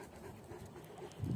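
Wolfhound dogs panting hard after a sprint at a kennel, a steady breathy rhythm close by with a louder burst near the end.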